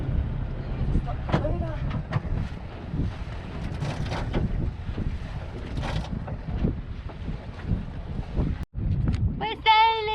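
A sailboat under wind power on open water, with steady wind buffeting the microphone and water washing past the hull; people talk and cheer throughout, and a short whistling tone rises near the end.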